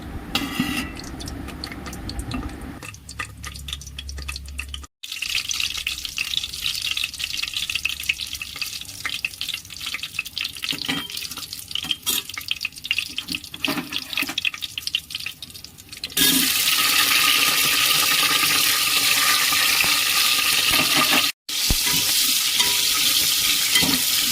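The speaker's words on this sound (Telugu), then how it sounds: "ఆ ఆనియన్స్ కూడా వేసుకొని వేయించుకోవాలి" Thinly sliced onions frying in oil in a pan for donne biryani: a continuous sizzle with stirring scrapes, turning louder and brighter partway through, with two brief pauses.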